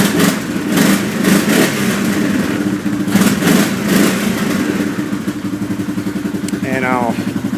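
Lifted 2007 Arctic Cat 500 4x4 ATV engine with a throaty exhaust, idling close by with a steady pulsing rumble and a few brief revs, a voice speaking briefly near the end.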